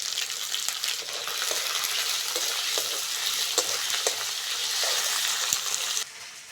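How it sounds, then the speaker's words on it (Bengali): Chopped onion and green chilli fry steadily in a pan with a continuous close sizzle and a few soft stirring clicks, stopping near the end. "পেঁয়াজ কাঁচা লঙ্কাটা হালকা করে ভেজে নিয়েছি"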